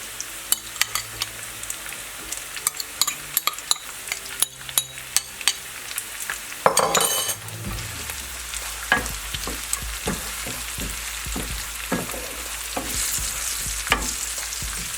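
Chopped onion fries in a pan for lasagna, giving a steady sizzle that is broken by repeated sharp scrapes and clacks of a utensil stirring against the pan. The sound is close, with no voices.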